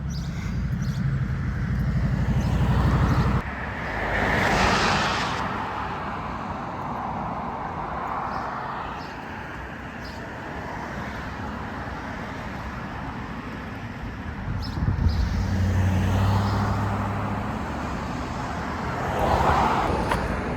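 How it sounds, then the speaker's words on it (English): Road traffic including trucks blazes through a town street in the Cumberland Valley, a steady roar with several vehicles swelling past and fading, wind-like rumble throughout. "you get through traffic that just blazes through here, trucks, everything"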